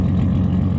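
A 2001 Nissan Xterra dune buggy with a turbo and a 2.5-inch straight pipe exhaust idles, giving a loud, steady, low rumble with a fast, even pulse for under a second.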